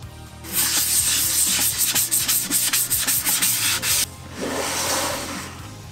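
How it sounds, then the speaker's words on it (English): Painted helmet being hand-sanded with 400 grit sandpaper: loud, close, rhythmic rasping strokes, then a brief pause and a smoother stretch of steady rubbing. "now I'm just going to sand this down to a 400 grit finish, nice and lightly, just to take all the little paint bumps off"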